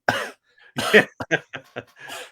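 A person imitates the cough of a seriously ill person, a burst of harsh coughs followed by a run of short rhythmic hacking coughs, close and clear with no other sound.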